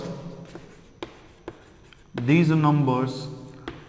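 A marker or chalk writing on a board during a maths lecture on sequences and series, a few short, sharp scratching strokes close by, followed by someone speaking.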